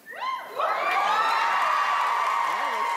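Studio audience at a talk-show interview whoops and cheers loudly, a sustained roar of many voices with clapping underneath, rising after a brief opening shout and holding steady.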